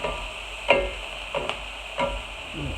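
Garlic sautéing in a pan for an Italian pork-in-milk stew, a steady soft sizzle broken by a few light clinks of a utensil stirring against the pan.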